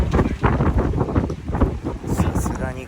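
Strong gale-force wind blows across a microphone outdoors in a store parking lot, producing a loud, continuous rumbling buffet while a person talks underneath.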